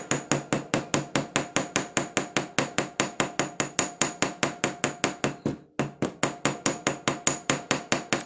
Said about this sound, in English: I think I'm going to hammer just around the loop a little bit